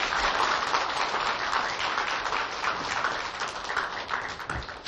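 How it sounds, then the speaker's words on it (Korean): Audience applause during a Tchaikovsky concert lecture, a dense, steady wash of clapping from a crowd that holds for the whole stretch without pause. "박수 한번 보내십시오"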